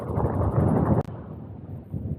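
Steady wind buffets the microphone with a loud low rumble while riding an e-bike downhill, cutting off abruptly midway and giving way to quieter rushing wind.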